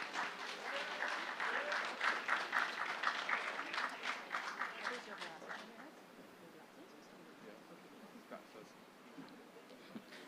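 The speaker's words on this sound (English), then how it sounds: "A round of applause, please." Audience applause at the ceremonial opening of a fishing centre in Moruga, moderate clapping from a crowd that peaks early then thins into scattered claps over faint room noise.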